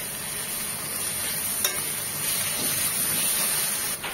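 Ginger garlic paste fries in a pan, giving a steady, close sizzling hiss with light stirring scrapes throughout, no voices.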